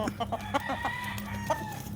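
Chickens on a game fowl farm in Tanauan City, Batangas, cluck and call in a busy chorus, with a crow rising among the clucks at close to moderate distance.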